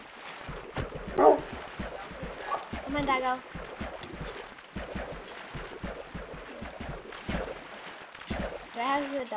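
A dog in Minecraft gives several short barks and yips scattered through the stretch, mixed with game effects while players talk over it.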